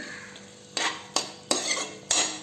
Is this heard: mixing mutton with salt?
yes